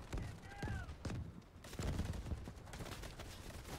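Rapid automatic gunfire from an ASh-12 rifle in the video game Delta Force, with dense, loud, close bursts cracking in quick succession and a brief lull midway.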